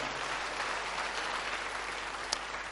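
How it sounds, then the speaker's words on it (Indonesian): An audience at a church service claps together in a dense, steady burst of applause heard close and continuous throughout, with no voices over it. "Tepuk tangan yang paling meriah."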